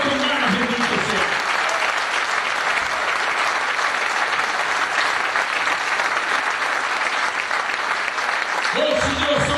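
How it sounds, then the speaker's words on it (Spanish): Church congregation clapping enthusiastically, a dense, continuous roar of applause filling the room at steady loudness, with a voice briefly audible at the start and end. "Si va a aplaudir, hágalo con ganas."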